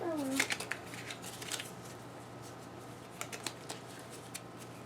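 Playing cards for a Gloomhaven board game being shuffled by hand in a few soft riffling bursts, with a quieter flutter of cards near the end and a steady low hum beneath.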